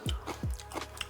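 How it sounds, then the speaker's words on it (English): Crunchy cucumber slices are bitten and chewed alongside rice and roast chicken, giving several close, crisp crunches in a quick rhythm with no talking. "the cucumbers are crunching."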